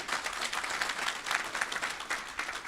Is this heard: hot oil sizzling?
no